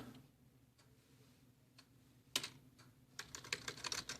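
Fingers tap on a computer keyboard, faint isolated clicks giving way to a quick cluster of keystrokes near the end, close and quiet in a still room.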